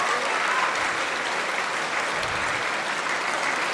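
An audience applauds at a live crosstalk (xiangsheng) comedy show, with steady, dense clapping throughout and no talking over it.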